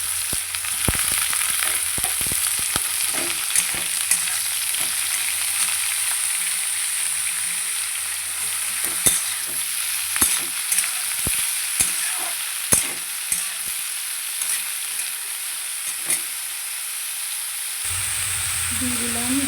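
Small eggplant pieces fry in a pan with browned garlic for an eggplant and fenugreek-leaf dish; a constant close sizzle is punctuated by irregular spatula clicks and scrapes as the pieces are stirred.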